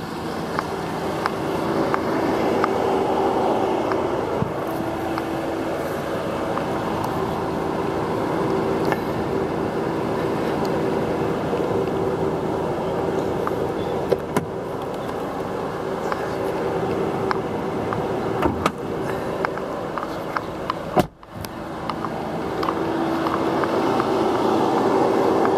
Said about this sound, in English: As you can hear, runs strong, nothing leaking, no smoke